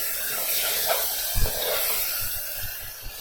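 Soaked chickpeas fry in hot oil, giving a continuous close sizzle with a few soft knocks and stirring bumps partway through, and no speech over it.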